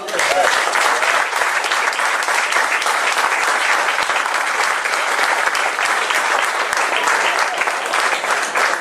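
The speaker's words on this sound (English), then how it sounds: "So I'd like you to give them a round of applause." A theatre audience at a Lough Gur Dramatic Society staging of The Importance of Being Earnest applauds the cast, with vigorous, sustained clapping from a full house, loud and continuous with a faint murmur of voices mixed in.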